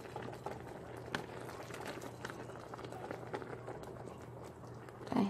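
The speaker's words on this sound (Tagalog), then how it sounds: "Pakuluan natin and then luto na yan." Sinigang broth with shrimp bubbling steadily in a pot, a continuous close simmering hiss and pop with no voices.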